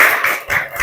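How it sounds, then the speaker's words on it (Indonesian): Children clapping in a classroom: a brief burst of quick, dense applause, close and fairly loud, with no talking. "Tepuk tangan."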